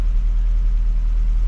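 A Fiat Abarth's carburettor engine running just after starting, a steady close, low rumbling idle held evenly throughout with no voices.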